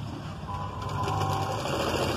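A sewing machine runs a continuous, close, even hum while stitching piping onto the edge of a net blouse, with no voices over it.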